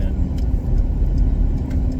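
A car rumbles past close by on a South Texas road, towing another car behind it, a loud steady engine drone with road noise filling the whole moment.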